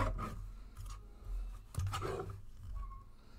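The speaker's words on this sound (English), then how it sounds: "I love this little trimmer." A small paper trimmer slices across cardstock in a few quick, close, quiet swipes of scraping blade noise, separated by soft handling rustles.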